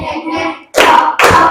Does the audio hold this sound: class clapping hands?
yes